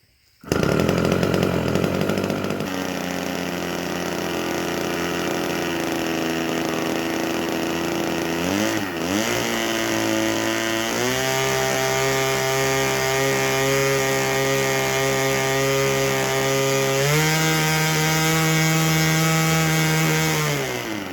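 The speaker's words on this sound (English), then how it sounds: "Nice clean idle on the rich side. That's what the popping is." A 32-year-old nitro engine starts and then idles rich. It makes a loud, steady, buzzing drone close by that shifts pitch a few times, with no talking.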